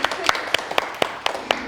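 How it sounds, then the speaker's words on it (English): Bakery staff clap on opening day, a small group producing sparse, distinct claps in an uneven rhythm, fairly quiet against a soft room background. "Give yourself a round of applause."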